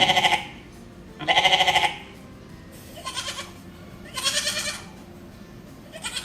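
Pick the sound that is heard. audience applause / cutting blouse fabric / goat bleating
goat bleating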